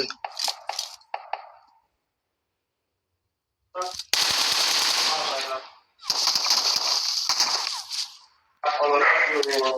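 Bursts of machine gun fire in a game with soldiers and bombs, long loud rattling volleys close up, separated by brief silences, with a short burst of speech at the start.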